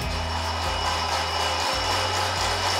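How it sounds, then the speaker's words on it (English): A heat gun runs on an inverter during an overload test alongside a bench grinder, producing a loud, continuous blowing whoosh over a low electrical hum that steps in pitch, with no talking. "Now I'll plug in the heat gun."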